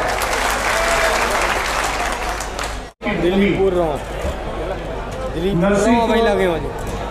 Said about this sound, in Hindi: पुरजोर तालियों से एक बार स्वागत करें